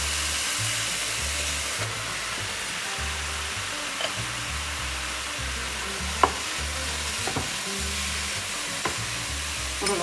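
Mushrooms, celery and onions sizzle and fry steadily in a pan for an Italian-style vegan lentil loaf, with a continuous hiss, occasional stirring clicks and scrapes, and faint low hum underneath.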